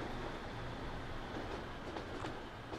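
A Class 156 Sprinter diesel train runs in the video game Transport Fever, a continuous low rumble and wheel noise with faint metallic rattles, steady and without speech.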